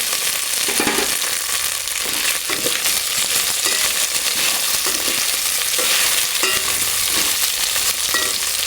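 Potato pieces frying in a pan for a mixed vegetable curry give a loud, continuous sizzle, with stirring scrapes and soft knocks throughout and no voices.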